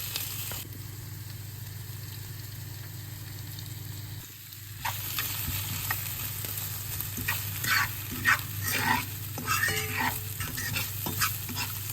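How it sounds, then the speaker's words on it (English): Steady sizzling and crackling of vegan bagel-filling ingredients lightly pan-frying, with occasional scrapes and stirring clatter, continuous and fairly quiet throughout. "we're more or less just pan frying our ingredients lightly"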